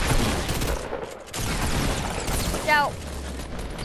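Rapid bursts of gunfire and blasts from a Fortnite match crackle through the clip, dense and mid-loud, with a player shouting over the shooting.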